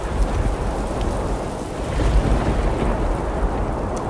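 Heavy, continuous rain lashes down with strong wind, a dense, roaring wash that stays loud and steady with no voices or breaks.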